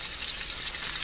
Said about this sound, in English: you can see in my cast iron skillet, I've got it frying up real good